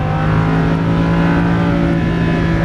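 A Lamborghini Huracan LP610-4 engine pulls hard under throttle, a loud, steady mechanical roar with strong low harmonics that holds nearly constant, heard from the cabin during track driving.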